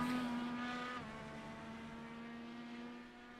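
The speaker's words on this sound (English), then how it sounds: "Turn 17, downshifts. Can he get a good run on exit?" Indy car engine on a racing circuit, a steady high-pitched drone that drops and settles as the car downshifts into the final turn, fairly distant and fading slightly toward the end.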